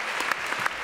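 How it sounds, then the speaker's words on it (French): Brief burst of studio audience applause on a French television show, a quick scatter of claps close and moderately loud. "Applaudissements pour jeune garçon."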